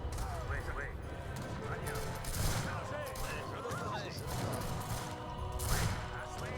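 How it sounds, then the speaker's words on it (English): Mortars fire in a Seven Years War battle in Age of Empires III, with rapid volleys of booming shots and crackling gunfire under in-game battle noise while someone talks over it. "We have to fire mortars, like mortar shells. So let's do that."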